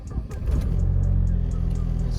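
A Mk1 Audi with a 1.8T engine fitted with a 2.0T coil pack conversion cranks briefly and catches, then settles into a loud, steady running rumble close by.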